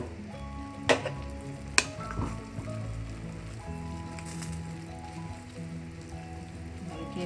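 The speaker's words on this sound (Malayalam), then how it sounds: "തുറന്ന് ഇളക്കി കൊടുക്കാം." A spoon stirs vegetable pulao in a pot with soft scraping and sizzling, broken by a couple of sharp metallic knocks early on, with steady low kitchen hum throughout.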